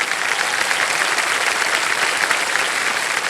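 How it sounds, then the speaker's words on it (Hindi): Studio audience on the quiz show Kaun Banega Crorepati season 17 breaks into loud, sustained applause, dense clapping that stays even for the whole few seconds with no voices on top. "ताली बज जाए इनके लिए।"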